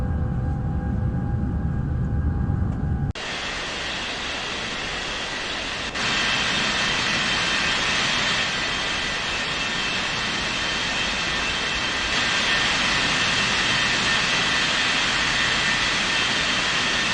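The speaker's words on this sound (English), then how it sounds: "ready for takeoff on 14 left" A jet airliner takes off from an airport runway with a loud, steady roar that builds and holds at a distance, following a short stretch of quieter background sound.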